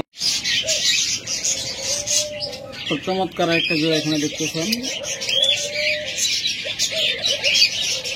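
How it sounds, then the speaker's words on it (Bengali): A pair of budgerigars, including an albino, chirping and twittering continuously in a cage at a bird sale, bright and close, while someone talks over them. "এরপর যদি আপনাদের বাজরিকার পাখি দেখায়,"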